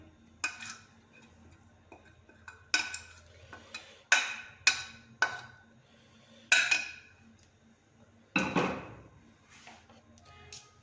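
A spoon clanks and scrapes around a pot while chicken biryani is mixed, giving irregular metallic knocks spaced a second or so apart, with one heavier, longer scrape near the end.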